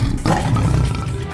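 A tiger roars in a loud, sustained burst that swells after a brief opening, rough and rumbling, used as a sound effect in a children's story.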